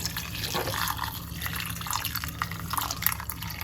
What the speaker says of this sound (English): pour some hot water upon it.